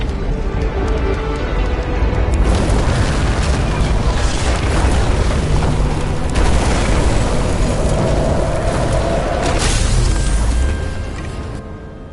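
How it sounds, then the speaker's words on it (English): Transformer explosion in the game Nobody Wants To Die, a loud sustained roaring blast with rumbling, crackling bursts that holds for about ten seconds before trailing off. "Someone flooded the transformer and it caught fire. Cable acted like a fuse. That's what caused the explosion."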